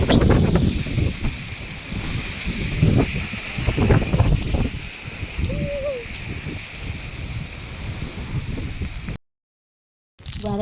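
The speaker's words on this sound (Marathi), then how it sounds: "संध्याकाळी छान असं आभाळ आलं होतं, वारा सुटला होता." Evening wind blows across open farm fields, making a steady rushing buffet against the microphone with gusty low rumbles, before the sound cuts out briefly near the end.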